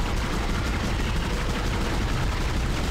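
Steady, dense gunfire in the Dead Space video game as a necromorph is shot, a continuous loud clatter with no pauses over a few seconds.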